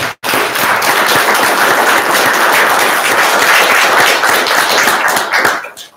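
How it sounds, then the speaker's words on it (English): An audience at a university award ceremony gives the recipients a round of applause, dense loud clapping sustained for several seconds before cutting off abruptly. "You'll join me in giving all of them another round of applause."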